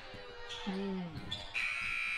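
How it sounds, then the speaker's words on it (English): A loud electronic game-end buzzer sounds over noisy basketball arena ambience, with talk and crowd noise running underneath throughout. "At the buzzer, a valiant effort by Mr. Reed, but not enough."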